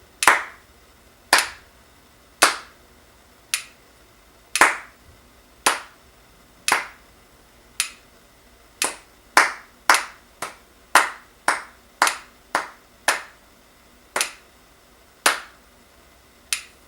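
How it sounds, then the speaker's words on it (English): Hands clap the four-measure rhythm of Hot Cross Buns, about twenty sharp claps close up in an uneven song pattern, spaced at first and then quicker, with no talk. "we're gonna clap the rhythm of this song"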